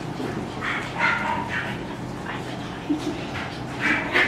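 Puppies in an air-conditioned kennel give scattered short barks and yips at a moderate distance, with faint whimpers between them and a voice talking quietly in the background.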